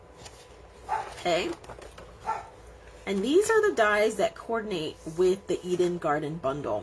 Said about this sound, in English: pardon my dogs in the back